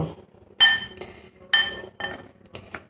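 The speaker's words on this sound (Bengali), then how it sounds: "বেসনটাকে ভালো করে এইভাবে মিশিয়ে নিতে হবে" Gram flour batter with salt, black cumin and chili powder being mixed in a bowl, heard as a few sharp clinks of a utensil striking the bowl in an uneven rhythm, close and fairly quiet.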